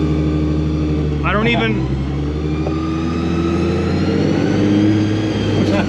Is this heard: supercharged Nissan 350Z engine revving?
yes